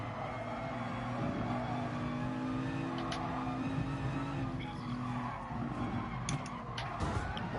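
An Aston Martin GT3 race car in Gran Turismo Sport on the Nordschleife 24-hour circuit: a steady, loud engine drone runs throughout, with tire squeal and skidding noise mixed in and no voices.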